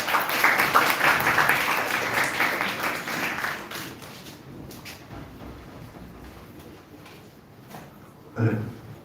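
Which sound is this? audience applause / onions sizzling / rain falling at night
audience applause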